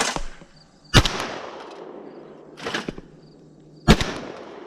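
A Mossberg SA-28 semi-automatic 28-gauge shotgun fires at clay targets outdoors, three loud, sharp reports about a second and a half apart, each trailing off in a brief echo.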